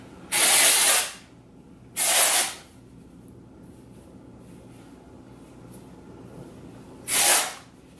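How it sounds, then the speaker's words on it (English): Three short hissing bursts of Dove dry shampoo sprayed onto hair roots, each about half a second long, with quiet pauses between them. "I'm gonna prep my hair with some dry shampoo, just kind of give it some texture"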